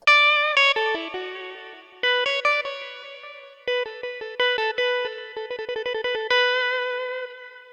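A 1965 Mello D Maker electric guitar played in a series of thin, bright, banjo-like plucked notes and quick repeated picks, each ringing briefly and decaying, with clean tones and no voices.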